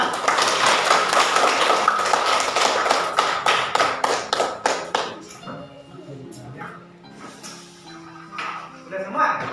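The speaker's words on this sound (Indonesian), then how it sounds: "Tepuk tangan" A classroom audience claps after a group presentation, a dense burst of applause that thins into scattered individual claps and fades.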